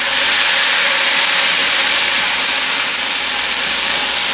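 A burger patty sears on a hot griddle while being pressed down with a press, giving a loud, steady, dense sizzle and hiss with no talking.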